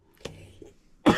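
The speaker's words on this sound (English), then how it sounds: "apologize for the coughing." A person coughs twice, a short cough followed after a pause by a louder, harsher burst, close to the microphone in a quiet room.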